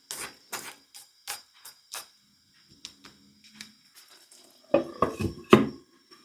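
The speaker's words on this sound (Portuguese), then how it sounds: "Misturar para que todos os ingredientes se incorporem." A spoon clinks and scrapes against a pot while ingredients, including soy sauce and chicken broth, are stirred together in a Japanese one-pot recipe, with soft rhythmic taps, then louder clattering strokes near the end.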